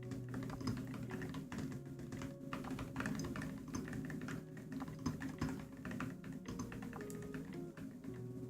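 Steady, rapid typing on a computer keyboard fills the space, a dense patter of close key clicks and taps running continuously over a faint low background hum.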